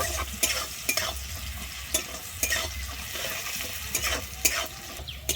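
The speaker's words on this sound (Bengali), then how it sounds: "লবণটা দিয়ে আমি খুব ভালোভাবে পেঁয়াজটা এবার লাল করে ভেজে নেব" Chopped onion fries with salt in a pan for a Bengali fish curry, browning under a steady sizzle. A spatula scrapes and stirs in a quick, repeated rhythm, close up and with no talking.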